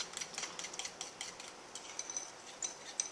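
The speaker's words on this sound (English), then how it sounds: "We're just going to go ahead and mix that." Rice pudding mixture flavoured with vanilla and cinnamon is stirred in a bowl, making a run of quick, light rhythmic clinks and scrapes from a utensil, close and fairly quiet.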